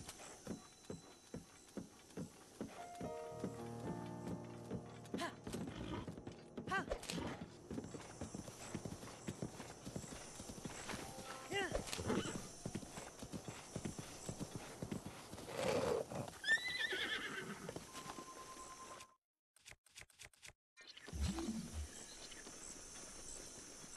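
Video game horse hooves from Breath of the Wild clip-clop in a steady gallop, with several whinnies and neighs, busy and fairly close, then a brief silence before the hoofbeats return.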